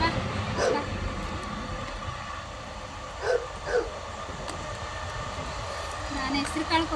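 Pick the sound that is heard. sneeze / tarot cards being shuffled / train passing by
train passing by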